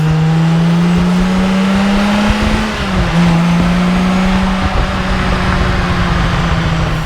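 1989 Ferrari Testarossa driven fast, a loud steady engine drone holding pitch, dipping briefly at a shift and then settling again, heard from close by with no talking.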